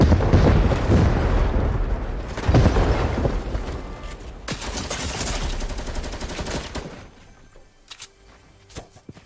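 Loud, dense gunfire and booming blasts from a double pump shotgun setup in the video game Fortnite fill the first seven seconds, then fade to scattered quieter shots.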